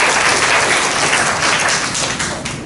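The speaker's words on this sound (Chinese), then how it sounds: "鼓掌一下，好不好" Audience applause from a seminar crowd, a dense, loud burst of clapping lasting a few seconds and tapering slightly at the end.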